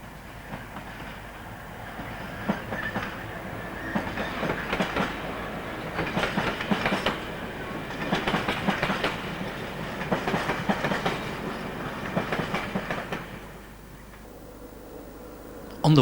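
An empty freight train rolls past on the rails with steady rumbling and rhythmic clickety-clack of wheels, moderately loud, fading away toward the end.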